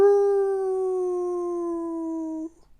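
A human voice imitates a wolf's howl, holding one long, steady, loud wail for over two seconds before it cuts off abruptly.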